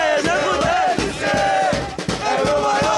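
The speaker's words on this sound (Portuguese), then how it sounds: "a torcida não para de cantar" Flamengo football supporters chanting and singing in a stadium crowd, a dense roar of many voices with rhythmic swells and shouted bursts, loud and continuous throughout.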